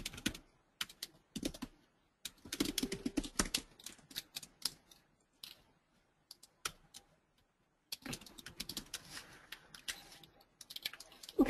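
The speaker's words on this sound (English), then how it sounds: "I'm going to type it." Bursts of rapid clicking keystrokes on a computer keyboard come in uneven runs separated by pauses, with a few isolated taps during the quieter middle stretch, close and fairly quiet.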